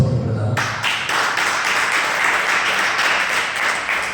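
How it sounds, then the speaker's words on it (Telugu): Congregation applause in a church service, a broad steady wash of clapping that holds loud and even for about four seconds after a brief low murmur at the start. "చప్పట్లు పెడదాం"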